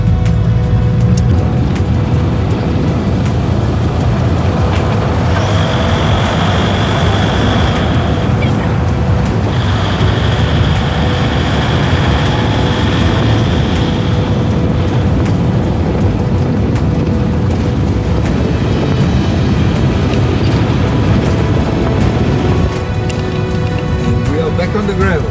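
An off-road camper drives along a gravel road, making a loud, steady rumble of engine and tyres on loose stones that continues unbroken throughout and sounds close.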